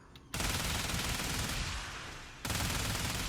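Harrow's incarnate weapon in Warframe fires rapidly in a dense, continuous stream, loud and close. It breaks off briefly and then resumes at full intensity.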